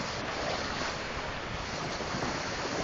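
Floodwater from the Housatonic River after Hurricane Irene pours over the Shelton hydro facility's dam spillway, a steady, dense roar of rushing water with constant wind buffeting the microphone and no speech.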